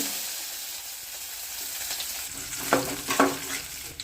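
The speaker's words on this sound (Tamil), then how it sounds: "சட்டியை வச்சாச்சு எண்ணெய் ஊற்றுறேன் ஒன்றா கொஞ்சம் பூண்டு" Garlic fries in hot oil in a pan with a steady, close sizzle, and a few louder stirring scrapes and clatters come toward the end.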